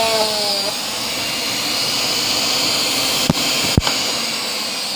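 A rewound armature electric motor, connected directly for a test run, gives a steady loud whine and hum that holds unchanged, broken by two sharp clicks near the end.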